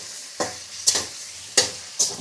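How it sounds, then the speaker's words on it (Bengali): Fish frying in hot mustard oil in a wok, a steady close sizzle punctuated by four sharp stirring scrapes of a spatula against the metal. "তেল গরম হয়ে গেছে, এখন মাছগুলো দিয়ে দিলাম।"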